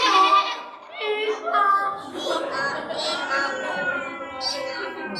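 Several voices imitate a donkey's bray, wavering drawn-out hee-haw sounds overlapping with laughter, close and lively.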